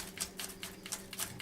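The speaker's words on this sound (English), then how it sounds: "just give them a little chop with the knife. This is the rocking motion." A knife rocks across leftover cabbage chunks on a cutting board for coleslaw, giving about six soft, evenly spaced taps in quick rhythm, quiet and close.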